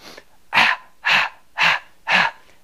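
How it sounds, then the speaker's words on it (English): Deep breathing exercise: four slow, strong breaths in an even rhythm, each a loud, close rush of air followed by a short pause, with nothing else heard. "and we're doing the deep breathing."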